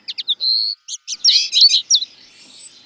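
Birds sing loud and close at a fallow wasteland site in Ploufragan in spring, with quick bright chirps, a sustained whistled note, and a run of warbling phrases against silence.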